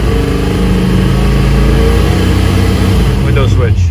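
An LS1 V8 engine fitted with a single-stage nitrous setup revs up toward 3500 RPM, giving a loud, sustained mechanical roar close to the microphone.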